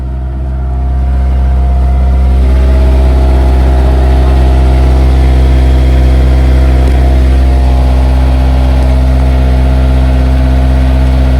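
A Honda S2000 sports car engine runs loud and close, a steady deep idle that swells as it revs up and then holds a strong constant drone throughout.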